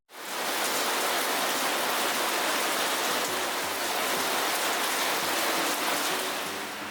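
Monsoon-season rain pours down in a loud, unbroken rush that starts suddenly and holds steady, with no voices heard.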